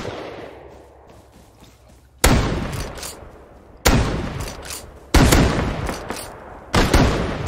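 Gunfire in the video game CSGO or Rust: four sharp, loud bursts spaced about a second and a half apart, each slamming in abruptly and trailing off in a noisy, decaying tail over a quieter background.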